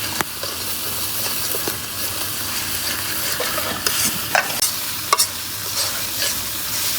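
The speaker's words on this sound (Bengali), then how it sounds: "এখন মশলাটা ভালো করে কষায় নিব।" Spice paste sizzles in oil in a pan as it is stirred and fried, a steady close hiss broken by sharp scraping clicks of the spoon against the pan, with no talking.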